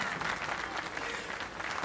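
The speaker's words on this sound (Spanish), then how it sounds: "ahí la están aplaudiendo" An audience applauds Cristina Fernández de Kirchner during a live televised interview, the clapping steady and dense throughout without pause.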